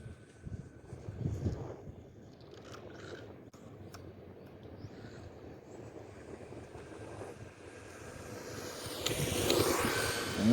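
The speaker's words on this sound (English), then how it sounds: "This is full throttle right here." A radio-controlled car runs flat out at full throttle, its electric motor a steady high whine that builds and grows louder and closer toward the end.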